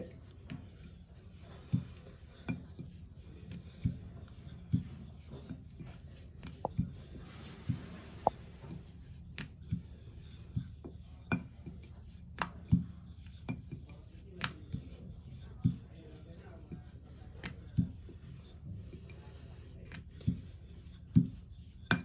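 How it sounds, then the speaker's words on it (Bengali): A rolling pin gently rolls out pea-stuffed kachori dough, giving soft, rhythmic knocks and taps about once a second against a quiet, still background. "দেখেছো কি সুন্দরভাবে আমি হালকা হালকা করে বেলে নিলাম"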